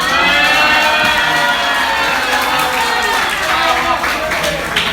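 A church congregation packed into a worship service claps and cheers together, with a dense, loud, sustained wash of applause, shouts and voices throughout.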